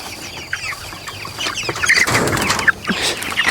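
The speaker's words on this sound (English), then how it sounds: "here we've got our little meat chickens" Meat chickens in a farm coop cluck and squawk with a burst of wing flapping midway, close and fairly loud against soft background noise, with no talking.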